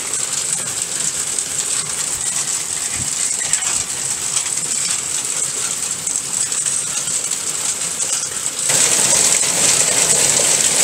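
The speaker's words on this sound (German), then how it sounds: "jetzt gibt es die wahnsinns Hagelkörner" Dense, steady hail in a storm in Hungary drums hard on a car roof with no let-up, a loud continuous clatter that grows a little heavier near the end.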